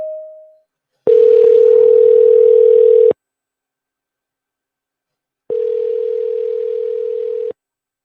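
Telephone ringback tones heard while placing a call: a brief faint beep, then two long steady electronic tones, each about two seconds, separated by a few seconds of silence, clear and close with no voices.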